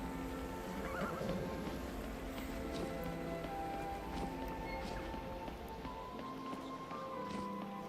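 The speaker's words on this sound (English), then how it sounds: "Oh, good horsey." A horse whinnies and its hooves clip-clop in Skyrim VR, a clear neigh early on over a steady bed of ambient game sound, with soft hoofbeats following and no talk.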